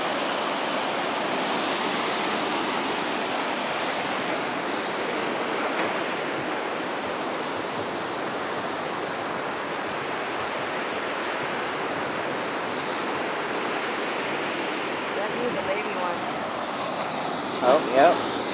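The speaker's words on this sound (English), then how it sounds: "Isn't it weird how the waves kind of come up this way but not over here?" Ocean waves wash steadily onto a shoreline in a continuous broad roar of surf. It stays even throughout, with a couple of small nearby knocks near the end.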